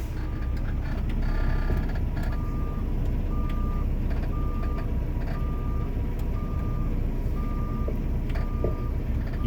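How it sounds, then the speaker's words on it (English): A Peterbilt truck with an automated transmission creeps slowly in reverse, its steady, evenly spaced backup alarm beeping over a constant low engine rumble. "you can see that the truck is allowing the creep to take place"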